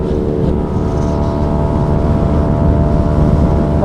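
Motorcycle engine and aftermarket exhaust revving hard and loud and close, a steady dense roar with no talk over it.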